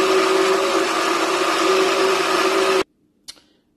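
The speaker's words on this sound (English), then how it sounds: "So I'm going to go ahead and blend this up" Redmond blender whirring loudly and steadily as it blends a protein shake, running at constant speed for nearly three seconds before cutting off abruptly, followed by a brief clunk.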